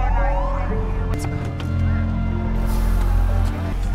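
An ambulance siren wails steadily over the rumble of its engine while the vehicle drives toward an accident scene, loud and close with a continuous rising and falling tone and no voices.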